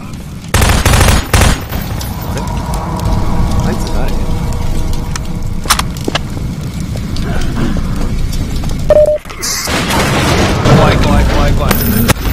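Bursts of gunfire crackle in Half-Life 2, with rapid repeated shots and heavy booms over dense game noise that continues throughout.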